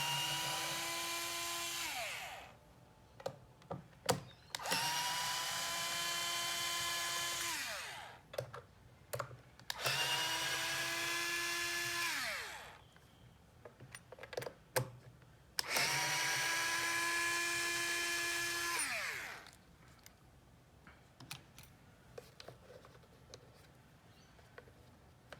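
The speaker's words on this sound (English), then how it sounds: "a power tool with a Torx 15 to remove the 4 screws in each corner of the platform" A power screwdriver with a Torx 15 bit whirs in four long bursts removing screws, each a few seconds with a falling pitch as it winds down, separated by short clicks and handling noises.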